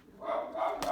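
A single dog gives a short, fairly faint bark or yip, close by but quiet.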